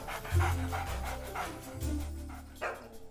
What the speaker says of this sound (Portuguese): É um cão muito especial.